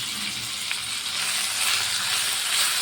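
Ginger garlic paste fries in a pan with a steady, close hiss and crackle of hot oil that holds even and continuous, with no talking over it.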